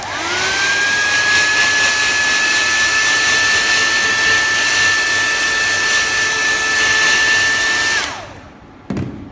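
A hair dryer blows steadily on reused screws for about eight seconds with a constant whine, then switches off and spins down, followed by a brief clunk at the end.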